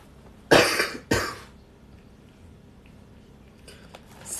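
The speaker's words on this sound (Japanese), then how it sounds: "咳が止まらんわ。" Two sharp coughs from one person in quick succession, close and fairly loud, followed by quiet room noise and a faint third burst near the end.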